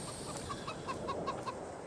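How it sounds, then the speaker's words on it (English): A flock of about sixty chickens and a rooster in the farm game Farming Simulator 22 give a run of soft, repeated clucks over a steady background hum. The clucks sound moderately close, and no one talks. "Yeah, 60 chickens and one rooster."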